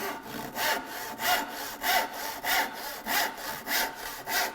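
A handsaw makes a test crosscut through wood, with nine or so even rasping strokes in a steady back-and-forth rhythm, close and clear with no talking.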